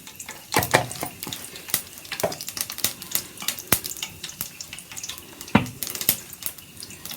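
Mustard seeds, urad dal and cumin temper in hot oil while cooking goat intestine gravy, giving sharp, irregular crackles and pops over a steady spattering hiss.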